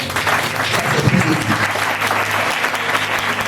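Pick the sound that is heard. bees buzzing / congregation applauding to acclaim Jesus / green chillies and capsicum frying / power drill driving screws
congregation applauding to acclaim Jesus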